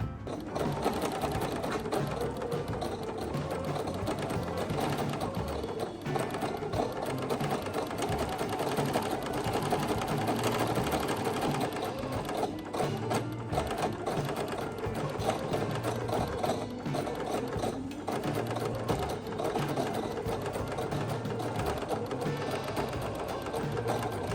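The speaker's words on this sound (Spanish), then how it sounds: "nos vamos ya a la máquina de coser" Sewing machine stitching fabric pieces together for a Christmas tree skirt, a steady rapid mechanical whir running continuously and close for the whole stretch with no talk.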